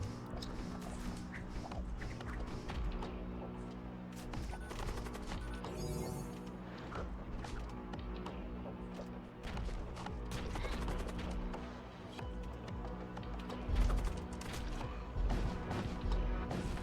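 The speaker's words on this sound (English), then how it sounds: "this mag pulse is doing a good job of one-shotting 4 shields" Mag pulse weapon fire in the Void War game strikes ship shields with repeated sharp crashing impacts over a dense, constant bed of layered battle noise and music, the hits popping out irregularly throughout.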